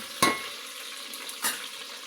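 Curry leaves and vegetables fry in hot oil in a pan, with a soft steady sizzle broken by two brief, close scraping stirs.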